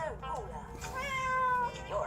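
A house cat meows several times close by, drawn-out and insistent, mixed with someone talking over it.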